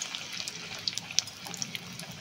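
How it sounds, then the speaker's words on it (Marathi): Muthiya dumplings for Gujarati undhiyu frying in hot oil, giving a steady close bubbling crackle with scattered sharp pops throughout. "आता ह्या मुठ्या आपण तळून घेऊ"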